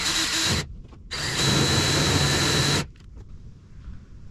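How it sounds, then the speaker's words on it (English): A power drill whines loudly in two bursts, the second longer, boring steadily through a thick steel bracket before stopping, then quiet. "I think I'm going to have to remove it to finish drilling the hole through this piece"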